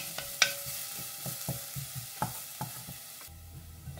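Squash with garlic and onion sizzles in a hot pan while a utensil stirs and scrapes repeatedly, with soft clinks and steady frying underneath.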